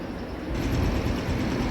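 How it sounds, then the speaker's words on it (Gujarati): A train pulling into a railway station gives a low, steady rumble that swells slightly after the first half-second and holds, heard alone without talk. "તો જો ટ્રેન આવી ગઈ આપણે."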